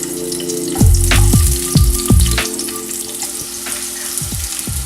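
Loud, steady sizzling of onions frying in a hot pan, with a few clanks and scrapes of stirring near the start.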